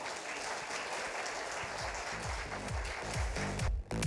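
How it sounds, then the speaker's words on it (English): Guests at a company's fifth anniversary celebration applaud in a steady, moderately loud round, with low thumping beats entering partway through and rising toward the end. "A huge round of applause"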